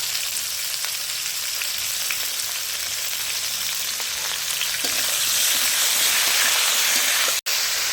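Vegetables for shukto fry under a lid in a pan, a dense, even sizzle that hisses continuously and grows slightly louder near the end before a sudden brief cut.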